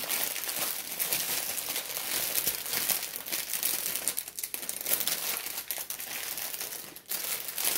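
Continuous close crinkling and rustling of plastic diamond-painting gem packets being handled and put away, steady and busy throughout with no voices.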